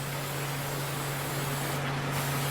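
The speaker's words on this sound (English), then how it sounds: "So you're gonna spray. We call it seasoning the pan." Cooking spray hisses onto a hot waffle pan to season the top and bottom plates, one steady close spray over a constant electrical hum.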